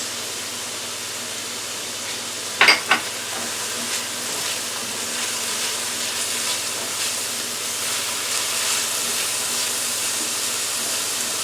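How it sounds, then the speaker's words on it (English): Mushrooms sizzle in olive oil in a pan alongside a cooked egg, with a brief clatter as they go in, then a steady, moderately loud frying hiss. "Egg is done. I'm going to add the mushrooms."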